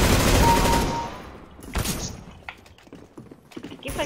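Burst of automatic gunfire in CS:GO on the Monastery map: a loud, dense volley that cuts off after about a second, followed by scattered quieter clicks and footsteps.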